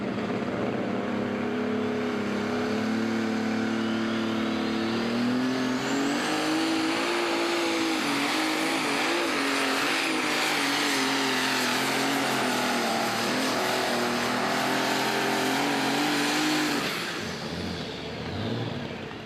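A light-weight pulling tractor's engine roars loud and close at a tractor pull, its pitch climbing steadily as it strains for many seconds before cutting back near the end.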